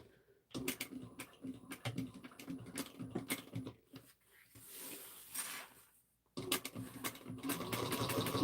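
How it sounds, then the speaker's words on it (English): A sewing machine stitches a horizontal half-inch seam in bursts of rapid mechanical chatter. Two long runs are split by a pause filled with a softer rustle. "I'm going to start going in by sewing horizontal a 1/2 inch,"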